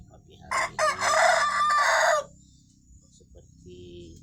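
A free-range village rooster (ayam kampung) crows loudly and close by in one long drawn-out call, then a soft, faint cluck follows amid quiet farmyard background.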